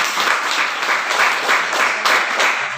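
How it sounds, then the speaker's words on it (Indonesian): Students in an Indonesian school classroom clap together, a dense, fairly loud burst of applause that swells in rhythmic waves and carries on steadily throughout. "Semua tepuk tangan."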